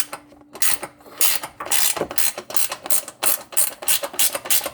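Ratchet wrench clicking steadily as bolts are backed off the frame of a Jeep Wrangler during a rock-crawler build, rapid ratcheting bursts in a regular rhythm, close and fairly loud.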